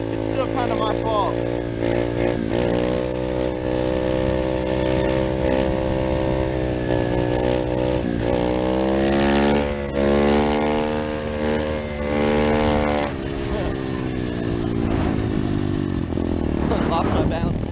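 A Chinese motorcycle engine runs loud and steady for the whole ride, its harmonic drone rising in pitch as it speeds up around the middle and close to the mic throughout.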